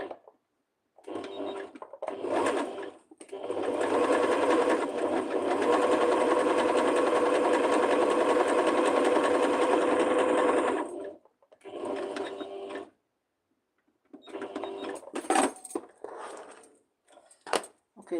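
Sewing machine with a new needle stitching a zigzag in a long steady whirring run of about eight seconds, with shorter bursts of stitching before and after and brief pauses between.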